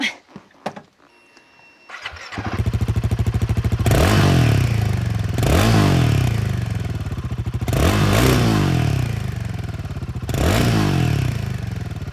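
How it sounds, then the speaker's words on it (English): A Royal Enfield Himalayan 450 with its Sherpa 450 single-cylinder engine starts after a few clicks, then idles with a steady thumping exhaust and is revved up four times in quick blips, loud and close. "This engine is called the Sherpa 450, and I'm going to quickly make you listen to the exhaust note"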